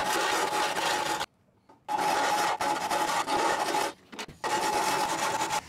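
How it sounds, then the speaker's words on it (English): Hand file rasping metal on the floor of a Ford Transit van, loud steady strokes in three long bursts with brief pauses between them, no talking. "Time to file."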